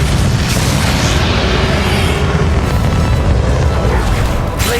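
A Bombarda spell explodes in the video game Hogwarts Legacy: a loud, deep booming blast that rolls on as a sustained rumble for several seconds, close and forceful.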